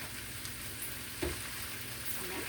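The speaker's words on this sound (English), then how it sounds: "You want to fry it high like that, too." Food fries over high heat in a pan, a constant crackling sizzle with a few louder pops and stirring clinks, fairly close, with no talking.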